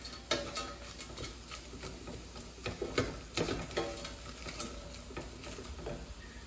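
Dried oyster mushrooms are stirred and coated in butter in a pot over lowered heat, producing faint, soft sizzling with light clicking scrapes at an uneven pace.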